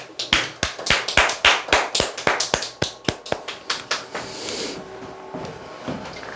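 An audience at an insurance telemarketing recruitment talk claps in a steady, fairly close run of sharp, evenly spaced beats that slows and fades after about four seconds into quiet room noise.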